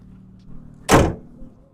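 A Honda Civic's bonnet is shut, one sharp, solid thud up close after a brief softer rustle, followed by quiet.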